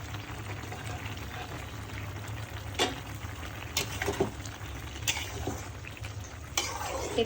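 Sponge gourd stir-fries in a pan for a shrimp curry, with a steady soft sizzle underneath and occasional scraping clicks of a spatula against the pan, close and fairly quiet.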